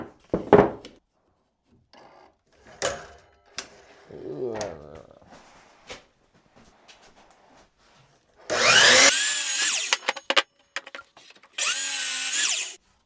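A power saw cuts oak boards to length for a storage crate; scattered workshop knocks and clatter come first, then two loud, close sawing bursts, each lasting a few seconds.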